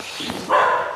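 Dogs on a shepherd's farm give a short, close bark, a single sharp yelp rising out of faint background noise.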